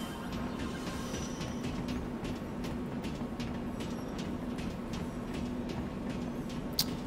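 Train station ambience in Lost Odyssey, a constant low rumbling hum of rail machinery with faint repeated clicks and a brief sharp tick near the end, steady and fairly quiet.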